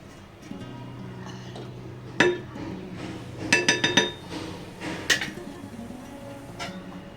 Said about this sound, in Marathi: छान असं एकदा हलवून घ्यायचं कारण कसं होतं एका ठिकाणी जर बसली ना वरई तर त्याचा गट्टा तयार होतो